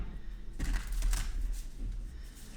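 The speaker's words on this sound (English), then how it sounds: "it's always nice to just get like a fresh shuffle" Large, thick Weaver tarot cards being shuffled by hand, a continuous riffling and flapping of card stock with a few louder bursts, close and alone with no talking.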